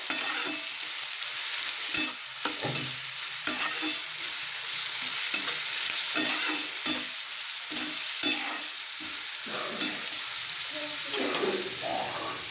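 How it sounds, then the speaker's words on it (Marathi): Vegetables stir-fry in a hot pan for hakka noodles, giving a continuous close sizzle with frequent scraping and clacking strokes of the spatula at an irregular rhythm. "अशा प्रकारे आपल्याला सगळं भाजीपाला मस्त फ्राय करून घ्यायचं आहे"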